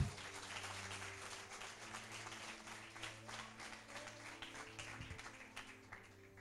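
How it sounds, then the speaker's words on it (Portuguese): Church congregation applauding the Lord during a sermon: a dense, steady wash of many hands clapping that lasts the whole stretch, with a low sustained musical tone underneath. "Então aplauda ao Senhor bem forte."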